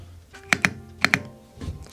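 Keys clack on a Womier WD75 wooden mechanical keyboard, two pairs of crisp, close strokes followed by a softer thunk, loud and clear with no talking.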